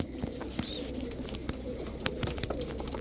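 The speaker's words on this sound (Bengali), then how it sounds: "খালি আমি ছাড়ি কবুতরগুলা দেখেন।" Teddy pigeons coo softly in a loft, low throaty calls repeating in an uneven rhythm over a constant background hum, with a few light clicks and flutters close by.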